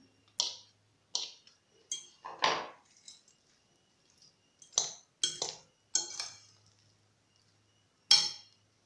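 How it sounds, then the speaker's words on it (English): Mango chunks, avocado and onion tossed together in a bowl, giving a handful of separate spoon-and-bowl clinks and wet scrapes spaced unevenly, close and moderately loud with quiet gaps between. "after mixing well the mangoes with the avocado and the onion"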